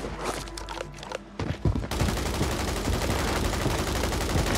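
Gunfire in Call of Duty Warzone on Urzikstan: scattered sharp shots at first, then from about two seconds on a dense, continuous burst of rapid fire that fills the rest of the clip.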